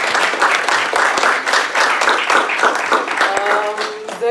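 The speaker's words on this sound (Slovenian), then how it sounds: "Ok, zdaj en aplavz, prosim, za spodbudo." An audience at a legislative forum gives a dense burst of clapping in encouragement, sustained and fairly close, with a few voices faintly under it.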